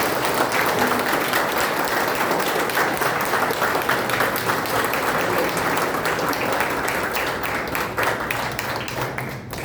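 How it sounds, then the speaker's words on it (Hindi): An audience claps dense, sustained applause greeting a visiting swami in an Arya Samaj hall, loud and even throughout, tapering slightly at the close. "खड़े होकर हम सब उनका अभिवादन करें"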